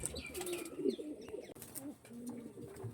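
Andhra pigeons coo in a loft, soft repeated throaty calls close by with a few chirps over a busy background of other birds.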